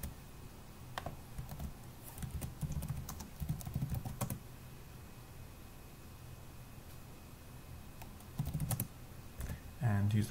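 Someone types on a computer keyboard in quiet bursts of soft key clicks while logging into a server, with a pause in the middle and a faint background hiss.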